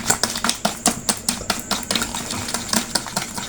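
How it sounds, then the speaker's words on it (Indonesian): Pukis cake batter whisked by hand until the sugar dissolves, quick rhythmic clinking strokes of a whisk against a bowl, close and steady with no talking. "Lanjut kita kocok dulu ini bahan ini, kocok sampai gulanya larut"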